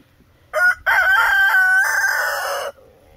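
A rooster crows once nearby, a loud, drawn-out cock-a-doodle-doo lasting about two seconds, clear and alone against a quiet farmyard where chickens are kept.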